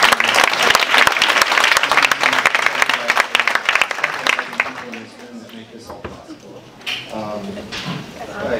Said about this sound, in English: we should just applaud for her